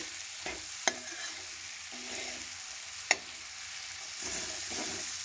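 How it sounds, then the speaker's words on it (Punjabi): Chickpeas and potatoes cook with spices in a pan, a steady soft sizzle under occasional stirring, with two sharp clacks of a spoon against the pan's rim. "ਮਸਾਲਿਆਂ ਨੂੰ ਮਿਕਸ ਕਰ ਲੈਂਦੇ ਆ ਚਨਿਆਂ ਨੂੰ ਆਲੂਆਂ ਨੂੰ ਇੱਕ ਦੋ ਮਿੰਟ ਲਈ ਪਕਾ ਲੈਂਦੇ ਆ"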